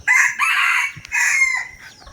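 A hill jungle fowl rooster crows loudly and close by, a long drawn-out cock-a-doodle call broken into two strong phrases with a brief gap between them, trailing off at the end.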